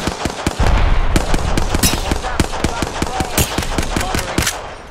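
Rapid gunfire from Apex Legends, a fast string of sharp shots cracking in quick bursts, loud and close, with no voices over it.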